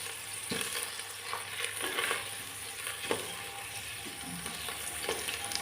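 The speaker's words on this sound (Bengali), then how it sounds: "এগুলো ভালো মতো তেলে একটু ভাজি করে নিতে হবে" Bay leaves, cardamom and cinnamon fry steadily in hot oil, a continuous sizzle with a few soft stirring scrapes breaking through, heard close and alone.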